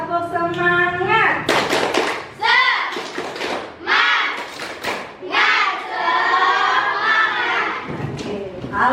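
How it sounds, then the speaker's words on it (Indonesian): Schoolchildren in a classroom doing a rhythmic spirit clap, with sharp patterned handclaps in quick bursts mixed with children's chanting voices, loud and close. "Tepuk semangat."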